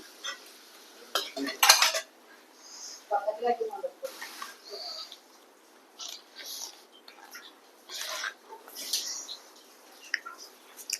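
Food being moved into a vessel with a spoon: scattered clinks and scrapes of utensils against dishes, coming in short bursts, moderately close, with faint background chirps.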